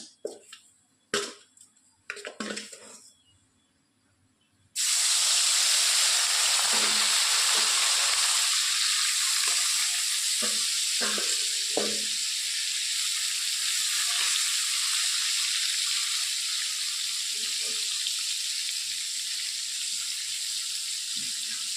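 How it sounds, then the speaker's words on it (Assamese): A few clatters and knocks, then a loud, steady sizzle as fish rubbed with salt and turmeric hits hot oil and keeps frying, with occasional utensil taps. "এইফালে মাছকেইটা মই পৰিষ্কাৰ কৰি ধুই লৈ নিমখ হালধি সানি এয়া মই ভাজি ল'ম।"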